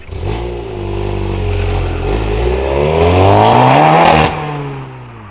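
A bagged Volkswagen Golf R MK7 pulls away, its engine note climbing steadily in pitch through the revs, loud and close, then cutting off abruptly as it shifts or lifts off.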